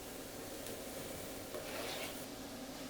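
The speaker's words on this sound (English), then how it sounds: "Give this a stir. I'm going to put my onion in with my carrots." Chopped onion and carrots sizzle in a hot pan while being stirred, a faint steady frying hiss with a few soft scraping stirs and no talking.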